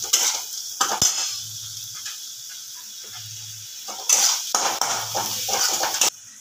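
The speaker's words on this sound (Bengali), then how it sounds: "এবার খুব ভালো করে মশলাটাকে আমি কষিয়ে নেব" Masala fried and stirred in a pan for a dhaba-style egg chicken tadka, a sizzling hiss broken by loud scraping strokes of a spoon against the pan, with a few brief metallic clinks.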